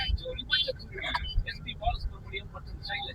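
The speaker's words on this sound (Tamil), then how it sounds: "பயங்கர டிராஃபிக்காக இருக்குது ஃப்ரெண்ட்ஸ்" Heavy city traffic rumbles and hisses around a vehicle approaching the Redhills bridge in Chennai, with passing engines and horns mixed under someone talking close by.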